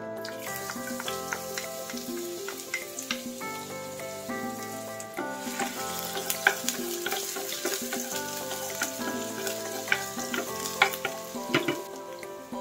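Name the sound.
onion frying in olive oil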